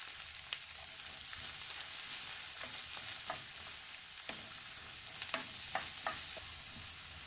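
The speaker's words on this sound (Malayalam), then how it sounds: "ഒരു 2 വലിയ സവാള അരിഞ്ഞ് വെച്ചത് ഇട്ട് കൊടുക്കുക" Chopped onions and curry leaves sizzle steadily in a hot oil pan for a Kerala-style mutton roast, with scattered crackles and pops and occasional stirring scrapes, close and continuous with no talk.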